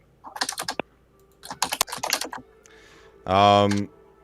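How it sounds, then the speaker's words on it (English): Computer keyboard typing during an online podcast call, bursts of quick clicky keystrokes in clusters, with a short burst of loud voice at the end. "Ray, it sounds like you're using a typewriter."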